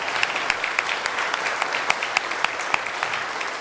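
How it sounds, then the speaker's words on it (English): Audience applause for the organizations under a community Freedom Band umbrella, a steady even wash of clapping with distinct sharper claps standing out throughout, moderately loud and without voices. "And so let's give all of those organizations a big round of applause."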